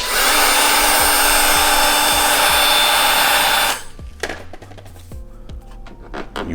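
A heat gun or hair dryer blows steadily and loudly at close range while warming vinyl badge skin on a VW MK2 Tiguan, then cuts off, leaving a few light taps and handling knocks.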